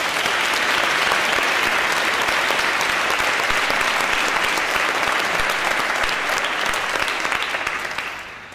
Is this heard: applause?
yes